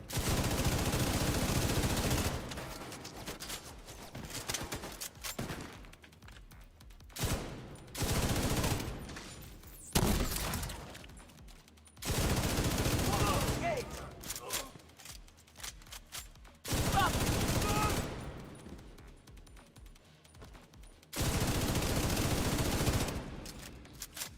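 MG5 machine gun in The Division fires long sustained bursts, loud and close, broken by short pauses and reload gaps, with distant shots and game effects between.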